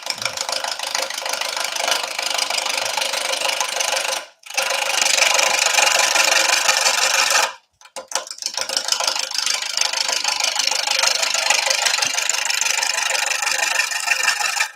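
A lathe turning a gate post finial whirs loud and steady with a rattly hum, stops twice briefly, then spins back up at a slightly faster speed.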